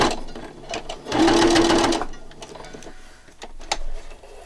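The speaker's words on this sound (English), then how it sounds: "I knew it would get harder to sew because it's thick, and plus it has all the glue in it." Sewing machine stitching through thick fabric that has glue in it, a steady loud mechanical whir for about a second mid-clip, then quieter clicks and handling noises.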